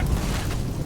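A grenade explosion in Starfield: a short, low, rumbling boom that fills the brief moment, close and heavy with a dull roar and no clear sharp attack.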